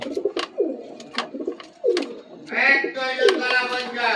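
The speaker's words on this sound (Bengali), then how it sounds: "এটা আর একটা পেয়ার পায়রা।" Soft, low coos from a pair of pigeons repeat several times at close range, followed by a brighter stretch of bird calls.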